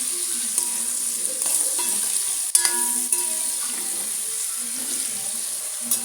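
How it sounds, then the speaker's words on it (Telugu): Food frying in oil, with steady sizzling throughout and faint stirring and clinking of a utensil against the pan. "ఇగో ఇంకా వేగుతూనే ఉన్నాయి"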